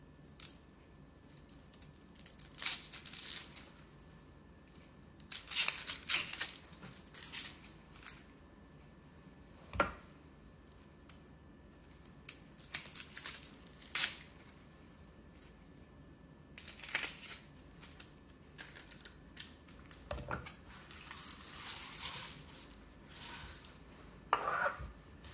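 A knife slices through a medium onion on a cutting board, leaving the root on. Sparse, quiet, crisp cuts come in irregular clusters with long near-silent pauses between them.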